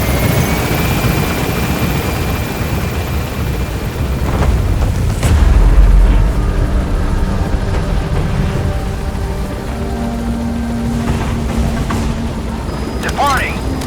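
A helicopter in Metal Gear Solid V whirs and thrums steadily throughout, swelling briefly midway with a heavier low rumble while voices speak over it.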